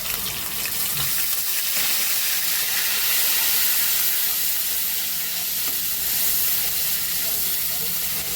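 Ginger, garlic, green chili and onion paste frying in hot oil for a Bengali egg malai curry, a loud, steady hiss and crackle of sizzling that runs unbroken and close throughout, with no talking.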